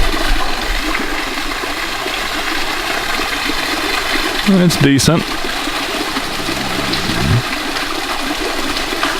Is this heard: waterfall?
yes